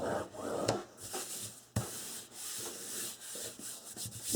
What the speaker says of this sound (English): Burnish that down.